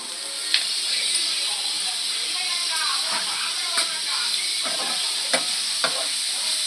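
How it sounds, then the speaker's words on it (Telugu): Boiled broccoli tipped into a hot pan for a broccoli masala curry, a steady sizzle and hiss underneath with a few sharp scraping stirs and clatters of the spoon. "ఇందాక మనం ఉడికించుకున్న బ్రోకలీ అయితే వేసేస్తుంది"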